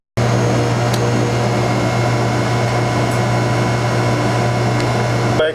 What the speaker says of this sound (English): So as you see here, the machine is printing